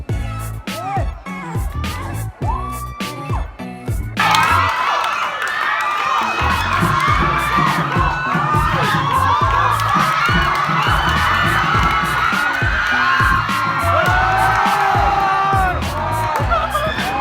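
Supporters of the Laos national football team at the ASEAN University Games cheer in a loud, sustained roar of shouts and whoops. A nearby voice talks over scattered claps at first, before the full crowd surges in.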